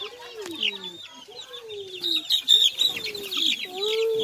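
Chicken clucks and short calls from farm fowl, a young rooster among them, rising and falling in bursts with a chorus of small chick chirps around them, fairly close.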